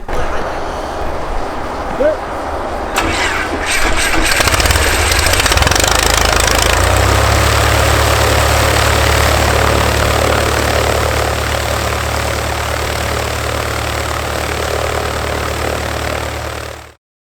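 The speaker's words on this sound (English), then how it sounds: "I'm going to start the motor here" A bush plane's engine cranks and catches, then settles into a loud, steady idle with a low propeller drone that runs until it cuts off abruptly. A voice speaks briefly under it.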